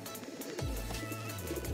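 A white male Madrasi pigeon gives low, soft coos, a drawn-out throaty note heard close against faint background noise.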